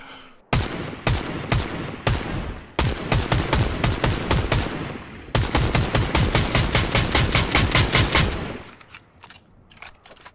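Rapid automatic gunfire in Fortnite, several loud close bursts of sharp evenly spaced shots separated by short pauses, with one long sustained burst before it stops; no talking.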